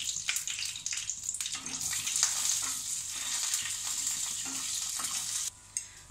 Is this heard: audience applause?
no